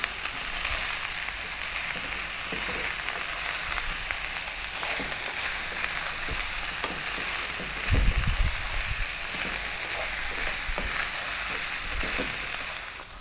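Cumin cauliflower rice frying hard in a pan over high heat, giving a loud, dense, continuous sizzle with occasional bursts of stirring and crackle.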